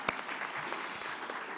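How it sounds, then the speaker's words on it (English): A short burst of audience applause, dense steady clapping from a crowd throughout. "Oh, you can clap for yourselves."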